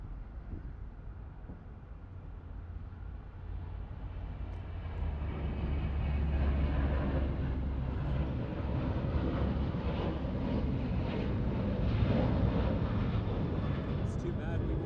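An Air Canada Boeing 737 MAX 8 arriving at LAX builds from a low rumble into a louder, sustained jet roar that holds through the second half, with a voice talking over it.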